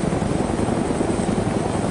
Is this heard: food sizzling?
no